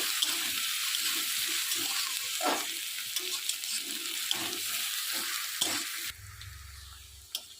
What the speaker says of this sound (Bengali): দিয়ে দেব কোচানো পেঁয়াজ পেঁয়াজটা সুন্দর করে ব্রাউন কালার করে নেব